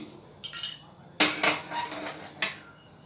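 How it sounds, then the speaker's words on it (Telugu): A metal spoon scrapes and clinks against a pan while roasted gram dal mixture is stirred with ghee, in a few sharp bursts with quiet gaps between them. "నెయ్యి వేసుకుంటూ కలుపుకు కలుపుతుంటూ ఉండాలండి అంటకుంట ప్యాన్కి"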